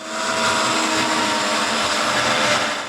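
An electric kitchen mixer grinding a paste of mashed potato, salt, chilli, cumin, turmeric and a little water: a loud, steady whirring drone that holds throughout, close and uninterrupted, with no talk.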